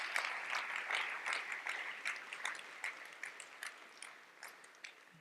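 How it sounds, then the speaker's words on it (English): A conference audience at an official opening bursts into applause, a dense patter of many hands clapping at moderate distance that swells and fades unevenly for several seconds, with no voices over it. "So a big applause for all one who supported us in reaching out."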